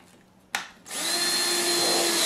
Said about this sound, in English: I'm drilling these pilot screws because I want to make sure